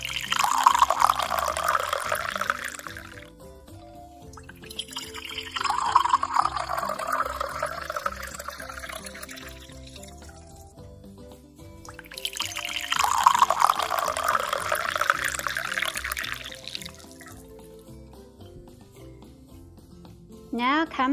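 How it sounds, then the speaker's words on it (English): Water pours into a row of cups to fill each one halfway, in three separate bursts of steady splashing pour with quiet pauses between them and no talking over it. "we need to fill 3 cups halfway up with water, every second one"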